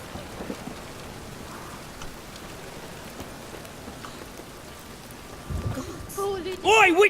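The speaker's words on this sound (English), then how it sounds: "A storm, damn it." A steady thunderstorm with heavy rain fills a scene in The Witcher 3 video game, constant and enveloping, while a voice speaks briefly over it near the end.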